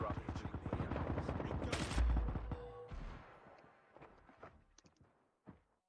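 Rapid bursts of gunfire from the Call of Duty Mobile video game, including sniper shots, crack out loudly at first and then thin to scattered distant shots as players talk over the action.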